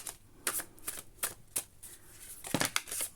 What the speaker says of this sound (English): already getting some cards even though I'm doing a pre-shuffle